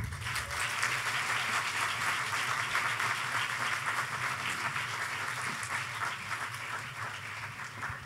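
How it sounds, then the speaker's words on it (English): Warm applause from a Nerd Nite and Café Scientifique audience greeting a scientist guest, a steady, moderately distant wash of many hands clapping that holds evenly throughout without voices. "let's have a warm round of applause for Dr."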